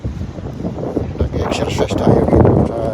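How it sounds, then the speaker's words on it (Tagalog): Strong wind buffets the microphone in loud, rumbling gusts while a person talks over it. "medyo malakas ng hangin"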